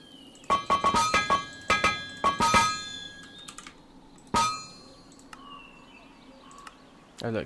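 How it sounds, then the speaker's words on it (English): Metallic hammer clangs from a crafting video game ring out in quick bursts of bright, tonal hits with chiming overtones, clustered early and then spaced apart, followed by a few softer dings. "Oh look, that's the hammer just went then."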